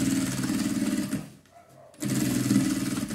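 Sewing machine stitching around a fabric coin purse, a fast rhythmic mechanical whirr up close that stops for about a second and then resumes at the same pace.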